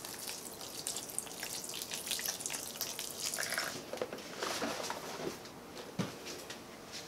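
Red wine pours into a slow cooker holding a venison pot roast with sage, a steady liquid splash running for several seconds with a few drips, close and alone without talk.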